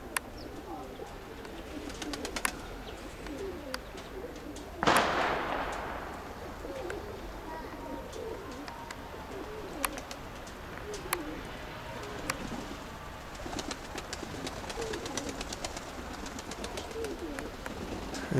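Pigeons coo softly in low, repeated murmurs around a loft in Rubizhne, with one sharp bang partway through and scattered clicks and rustles. A voice talks at times over the birds.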